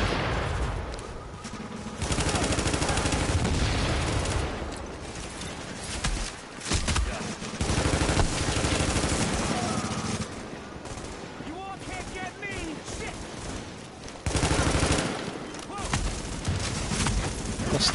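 Video game gunfire crackles in rapid automatic bursts, loud and dense, with short pauses between volleys and a voice speaking now and then.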